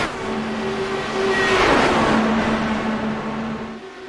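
IndyCar race cars roar around Kansas Speedway in a racing video game, a loud sustained engine whine that swells as a car passes close and then fades, with a steady motor drone underneath.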